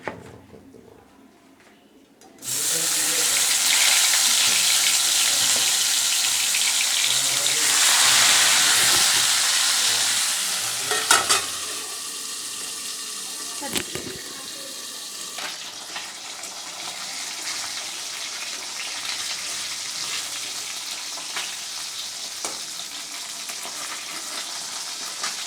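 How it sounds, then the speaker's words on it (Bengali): Salted tilapia pieces drop one by one into hot oil in a wok, setting off a sudden loud sizzle that then settles into a steady crackling hiss, with occasional sharper spits and pops. "আমি মাছগুলোকে এক এক করে ভেজে নেব।"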